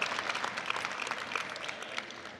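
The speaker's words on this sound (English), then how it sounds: "Let's give her a round of applause, all 5 of them." A crowd at a volleyball event applauds a group of people being introduced, steady dense clapping that holds at an even level and fades slightly near the end.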